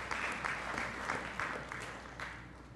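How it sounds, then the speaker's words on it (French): A church congregation claps together in thanks, a steady spread of hands with distinct individual claps pulsing through, moderately loud and sustained across the whole stretch without speech. "On les applaudit ensemble."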